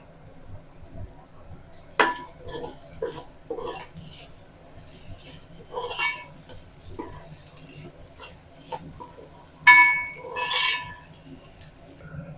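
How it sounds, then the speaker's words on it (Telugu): Capsicum stir-fried in a pan for prawn fried rice, with scattered clinks and scrapes of a utensil against the pan over a low steady sizzle, a few sharper metallic knocks standing out. "ఇప్పుడు నేను క్యాప్సికమ్ కూడా వేసేసుకుంటున్నాను, కూడా వేసుకొని మంచిగా ఫ్రై చేసుకోవాలి"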